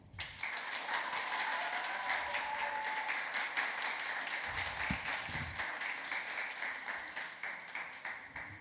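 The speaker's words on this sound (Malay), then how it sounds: "mari kita berikan tepukan gemuruh kepada para finalis pertandingan bahas 4 PM" Audience applause for finalists at a secondary school Malay-language debate competition, a steady roar of many hands clapping at even volume throughout, with no speech heard.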